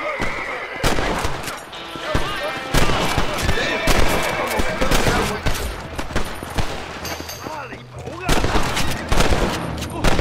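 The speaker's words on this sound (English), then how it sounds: "What's with all this shooting?" Rapid gunfire crackles through a shootout in the video game Red Dead Redemption, dense overlapping shots and volleys that keep going, loud and close, with occasional voices in the mix.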